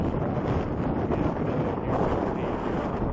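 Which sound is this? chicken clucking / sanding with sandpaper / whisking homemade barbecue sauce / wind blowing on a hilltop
wind blowing on a hilltop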